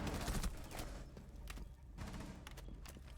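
Gunfire and explosions in a Rainbow Six Siege esports playoff match, with rapid bursts of shots and heavy thuds layered over a steady roar of game noise, fairly quiet overall.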